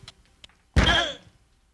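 A man bangs on a door in a single burst of heavy thuds that fade out quickly, with faint quiet sounds before it.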